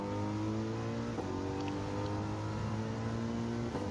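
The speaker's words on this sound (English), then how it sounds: "Great car to drive though, the Mercedes." Mercedes race car in the Gran Turismo 7 racing game, its engine holding a steady droning tone with a few slight shifts in pitch, loud and continuous with no talk.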